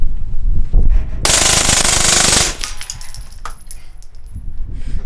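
Maximum 9 gun firing a full-auto burst, a loud continuous rattle of rapid shots lasting about a second, followed by quieter clinks and handling noises.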